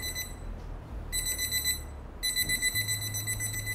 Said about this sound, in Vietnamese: nó kêu tít tít tít